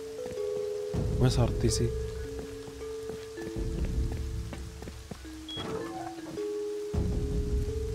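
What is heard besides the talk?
heavy rain in the video game Rust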